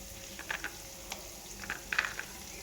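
Dried red chillies and cumin sizzling in hot oil for semiya upma, with soft crackles and a few brighter pops and spits, fairly quiet and with no talk.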